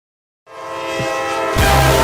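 A Norfolk Southern train sounds its horn close by in a loud, sustained multi-tone chord, and the heavier rumble of the passing train joins in after about a second.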